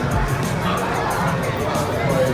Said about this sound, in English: we didn't get this kind of crowd reaction last year for Monster Jam